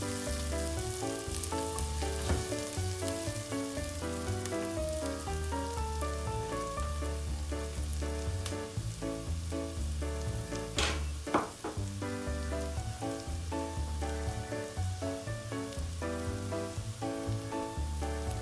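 A handful of curry leaf stems sizzling in hot oil in a pan for a traditional Tamil crab curry, a continuous crackling fry with occasional scraping stirs, steady and close, no voices.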